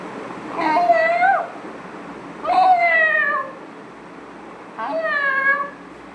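A person imitates a cat with three drawn-out, rising-and-falling meows, evenly spaced and loud against a quiet room, as part of a spin-the-wheel animal sound challenge.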